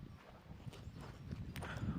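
Horses walking along a mountain trail in Nepal, their hooves clip-clopping in a steady, uneven patter fairly close by, with a few louder footfalls toward the end.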